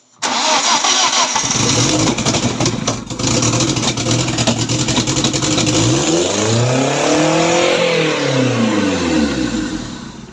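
A BMW 316 fitted with a turbo cranks and fires up, then revs hard and settles, its engine loud and close, with a sweeping whine as the speed rises and falls.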